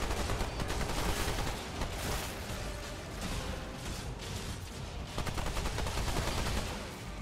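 Gunfire from a shotgun in Remnant 2 blends into a dense, continuous barrage of loud shots and battle noise that stays heavy throughout, with no voices.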